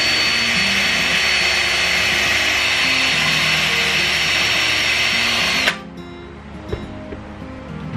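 A power tool scrapes down part of a plastic KYX V8 RC kit for motor clearance, whining loudly and steadily for several seconds before cutting off abruptly, followed by a few small handling knocks, with no talking.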